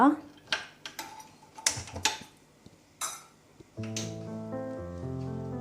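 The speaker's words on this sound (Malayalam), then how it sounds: "അതിനായി ഒരു പാൻ അടുപ്പത്ത് വെക്കുക." Metal cookware clatters as a pan is set on a stove to fry garnish for vegetable biryani, with several sharp close knocks and scrapes followed by a steady tonal hum.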